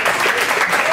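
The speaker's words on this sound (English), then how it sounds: "And one more round of applause also for Nijone Begay" Loud, dense applause from an audience at the Texas Folklife Big Squeeze auditions, a steady wash of clapping for about a second.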